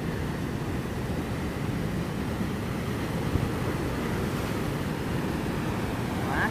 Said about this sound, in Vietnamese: Mình bây giờ đang quay cái cảnh ảnh hưởng của sóng thần đến với Bondi